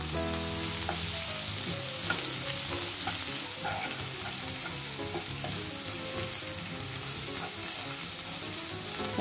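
Steady, dense sizzling of a spiced onion mix with turmeric frying in a pan for egg bhurji, continuous and close, with faint stirring clicks throughout and no talk.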